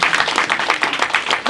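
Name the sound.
church congregation applauding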